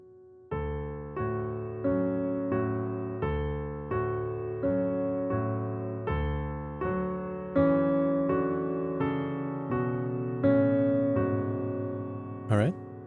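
A piano plays the closing chord passage of a piece, a sequence of rhythmic repeated chords struck roughly every half second and ringing out, growing slightly fuller toward the end, with a brief click near the close.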